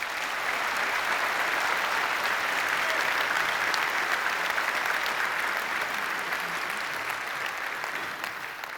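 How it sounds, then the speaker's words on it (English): A large audience at EVE Fanfest 2012 applauds in a big presentation hall, a dense, steady wash of clapping that holds loud for several seconds before beginning to thin toward the end. "Please give them an applause."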